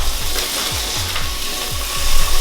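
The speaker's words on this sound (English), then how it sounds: "We're just gonna go ahead and sear off the ground beef." Ground beef searing in a hot pan, a steady loud sizzle running throughout, with a regular series of low scraping or rattling strokes, likely a utensil working the meat.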